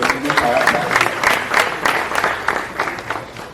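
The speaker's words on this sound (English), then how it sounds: "round of applause for her" An audience at an awards press conference breaks into applause, a brisk crackle of many hands that gradually thins. Talking mixes in.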